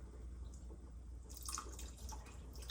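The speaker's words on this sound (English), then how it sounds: "Now I'm going to add the water." Water trickles and splashes into a cooking pot of purple hull cowpeas in a home kitchen, a soft steady pour that thickens into brighter splashing partway through, heard close and alone.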